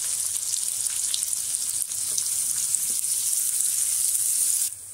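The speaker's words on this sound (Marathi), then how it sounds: "कांदा टाकून घेते।" Chopped onion with crushed garlic frying in a pan for a jackfruit vegetable dish, a loud, continuous hissing sizzle with faint stirring, which drops away abruptly near the end.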